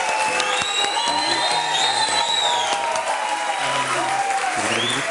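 A television studio audience applauds a female guest DJ, dense sustained clapping with some cheering and whoops, while a host's voice carries faintly over it.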